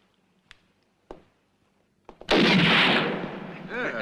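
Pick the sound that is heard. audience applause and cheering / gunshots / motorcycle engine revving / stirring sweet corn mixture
gunshots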